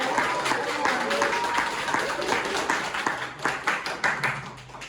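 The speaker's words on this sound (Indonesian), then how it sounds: "Kita beri tepuk tangan yang meriah." Audience applause at an Indonesian talk event, a dense patter of many hands clapping steadily, thinning toward the end into scattered claps, with some voices faintly audible underneath.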